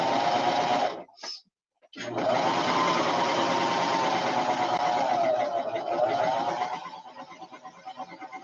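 A sewing machine stitches a lightweight seam with four thread tensions, a fast even whirring that runs for about a second, pauses briefly, then resumes steadily and fades toward the end.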